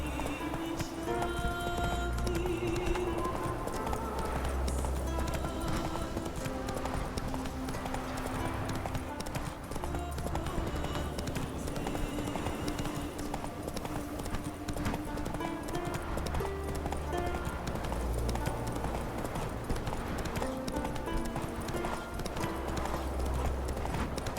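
Roach the horse galloping in a video game, a continuous rapid clip-clop of hooves with a steady rhythm, overlaid with background music and occasional ambient noise.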